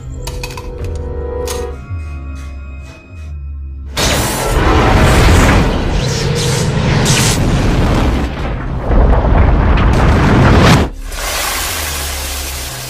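A bomb explodes and blows up a building lobby in a film scene: a loud, sustained roar of blast and debris swells up suddenly and rumbles on for several seconds before cutting away. No one speaks.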